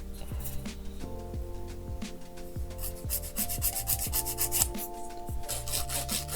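A nail file rubbing across the tip of a fingernail, with rapid short scraping strokes in a steady rhythm, close up and light, with faint background hum and no talking.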